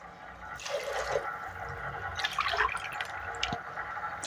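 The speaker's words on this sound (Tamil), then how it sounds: "இப்போ 3 கிளாஸ் எடுத்திருக்கேன், 6 கிளாஸ் தண்ணி ஊற்றிக்கிறேன்." Water pours and splashes into a rice pot in bursts, close up, with dripping and trickling between pours.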